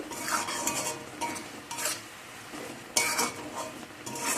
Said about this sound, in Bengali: ঢাকাটা খুলে নিয়েছি আবার একটু নাড়াচাড়া করে দেব